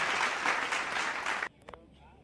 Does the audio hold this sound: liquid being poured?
no